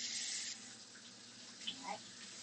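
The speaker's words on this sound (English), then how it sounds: "Let me rinse my hands off." Tap water runs steadily into a kitchen sink while hands are rinsed after cutting pork. The stream is loudest at the start, then settles into a softer, even flow with a few small splashes near the end.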